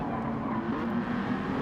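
A steady, droning BMW Vision Gran Turismo race car engine in a racing video game hums continuously at a constant pitch, with a faint whirring layer and no voices.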